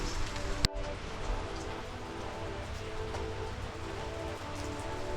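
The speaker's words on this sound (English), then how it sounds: "yes, it is raining today" Steady outdoor rain hisses continuously and fairly close, with a single sharp knock early on and no voices.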